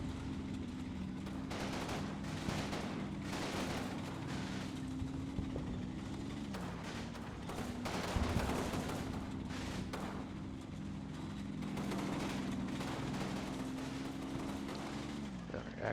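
Gunfire in the Combat Mission video game, a dense, steady rumble of distant small-arms and heavier fire that runs without a break under a low engine drone, with no speech.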